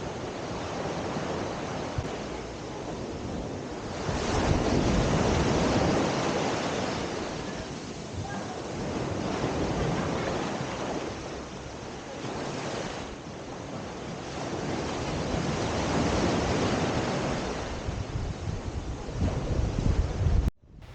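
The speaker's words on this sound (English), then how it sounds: "I prefer the experience where you can hear the small waves breaking on the sand" Small waves wash and break steadily on the sand of a beach on Phi Phi Island, a broad surging hiss that swells and recedes in slow cycles, with light wind buffeting the microphone.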